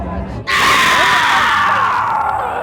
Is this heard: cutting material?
no